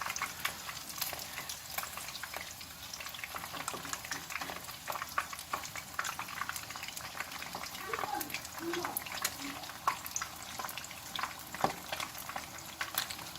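Halfbeak fish deep-frying in hot oil, giving a steady, close crackling sizzle with scattered sharp pops and occasional light clinks from stirring.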